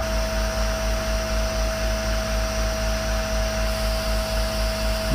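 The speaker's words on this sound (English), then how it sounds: "that compressor shoves in a lot of air" A large tank is being filled by an air compressor, giving a steady, loud mechanical drone with a fine pulsing beat and a constant hum, close by and without any talking.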